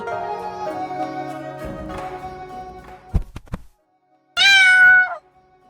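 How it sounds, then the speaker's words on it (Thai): A single loud, close cat meow rings out after a few soft thumps and a brief silence, with faint tonal music fading beforehand. "อ่าเจ้าเหมียวนี่นา"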